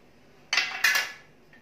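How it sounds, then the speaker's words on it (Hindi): A ladle scrapes and clinks against a hot pan while stirring whole spices dry roasting over low heat, two close bursts of metallic rattling scrape, the second trailing off, then a faint tap; no talking. "कड़छी लगातार चलानी है ताकि मसाले जल नहीं जाएं"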